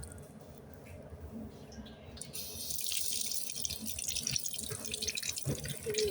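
A faucet in a mall restroom turns on partway through, and water runs with a steady close hiss and splash into the sink, growing louder and staying constant to the end.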